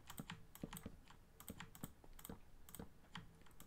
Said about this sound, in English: apologise if my keyboard and my mouse are much louder than me